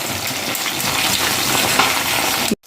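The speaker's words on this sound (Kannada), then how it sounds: "ಚಿಕನ್ ಹಾಕಿದ ಮೇಲೆ ಮೀಡಿಯಂ ಉರಿಯಲ್ಲಿ ಬೇಯಲಿ" Pepper lemon chicken kabab pieces fry in a pan over medium heat with a steady, close sizzle and crackle throughout, cutting off abruptly at the end.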